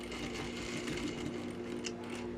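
A sewing machine runs in one steady, continuous burst, stitching a second parallel seam a quarter inch from the first on a fabric diagonal bag, with a constant motor hum and rapid needle rhythm throughout.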